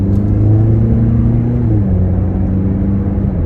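A 2017 Mazda 6 Grand Touring accelerates out of a turn, with a steady, loud low engine drone rising gradually in pitch from inside the cabin.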